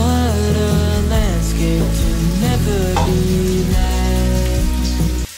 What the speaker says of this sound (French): Je vais les faire revenir dans ma casserole.